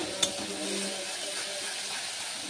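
Garlic fries in a pan while being stirred, giving a soft, low-level sizzle and hiss that opens with a sharp utensil tap and then settles into a steady, fairly quiet crackle.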